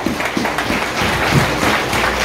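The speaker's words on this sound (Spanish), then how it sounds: "este voto de aplausos para ti" Congregation applause at a church service in Yacubamba, Pujilí, Cotopaxi, a steady, dense wash of clapping from a crowd that carries on evenly through the moment with no talk over it.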